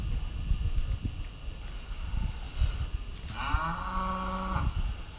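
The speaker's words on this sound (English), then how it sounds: "the female cow who had seemed uneasy set up a loud cry" A cow moos loudly in a school stage play of Animal Farm: one drawn-out, low moo lasting about a second rises over a rumbling, noisy hall background.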